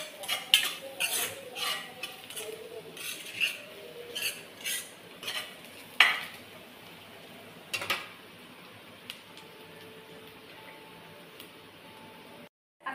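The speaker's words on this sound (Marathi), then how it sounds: "कांदा आपला भाजतोय" Onions frying in a pan while a spoon scrapes and stirs them, giving irregular metallic clinks and taps over a soft, steady background hiss. The sound is close and moderately quiet, with no talking.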